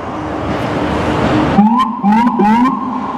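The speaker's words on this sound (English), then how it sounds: "There goes another police sirens." A New York police siren wails through traffic noise in Manhattan's Chelsea, rising and falling in short yelping sweeps, fairly loud and close on a city street.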